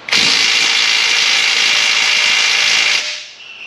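A loud, sustained power-tool whir from an impact wrench runs for about three seconds on the big 24 mm bolts of a 2014 Ram 1500, then cuts off abruptly into quiet.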